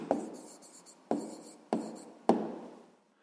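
Four distinct pen strokes on paper, spaced roughly half a second to a second apart, each a crisp close scratch that tails off. The setting is quiet with no voices.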